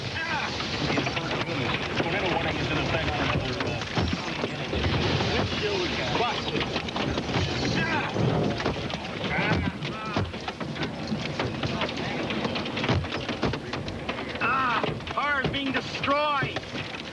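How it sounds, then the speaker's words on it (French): Hailstones pound a car during a storm in Nebraska, a dense, steady drumming and rattling on the body that runs the whole time beneath continuous voice-over talk. "Les grêlons s'abattent sur le véhicule avec une violence inouïe."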